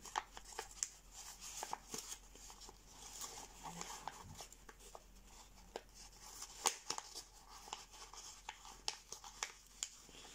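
Paper is folded and creased by hand for an origami stegosaurus, with soft crinkles, rustles and sharp little taps coming in irregular close bursts.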